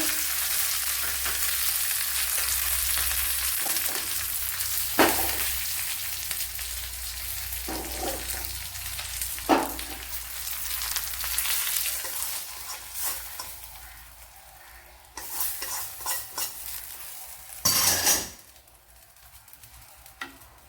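Green chillies and curry leaves frying in a pan with jackfruit, a steady hot sizzle throughout, punctuated by scraping, clinking stirs that grow more frequent toward the end.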